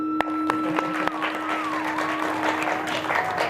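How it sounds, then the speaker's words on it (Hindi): An audience at a Ram Katha religious gathering in Ayodhya claps, beginning with a few sharp separate claps that quickly swell into steady, close applause over a sustained drone. "ताली बजाइए।"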